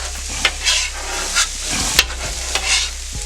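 Steak being stirred into egg fried rice on a hibachi-style steel griddle at home: a steady close sizzle with scraping spatula strokes and a few sharp metallic taps against the flat top.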